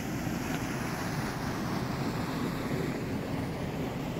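Water drains away in a steady, even rush of broadband noise. It holds constant throughout at a fairly low level, with no talking over it.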